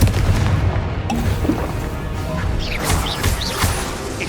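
Confringo blasting spell in Hogwarts Legacy, a heavy crashing explosion with dense rumble and scattered impacts and magical whooshes, loud and close throughout the short burst.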